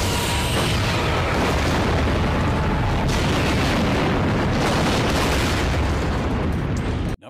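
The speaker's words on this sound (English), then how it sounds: "Target that explosion and fire." Explosions and weapon fire from a Star Trek film rumble on as one loud, dense barrage of booms and blasts, filling the stretch before cutting off abruptly at the end.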